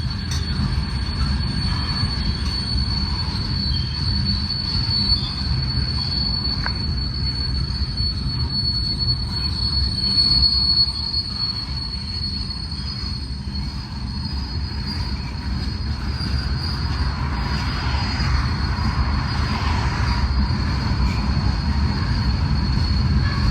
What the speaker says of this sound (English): I think this may be the Conrail manifest that operates from Conway Yard west of Pittsburgh, Pennsylvania to Enola Yard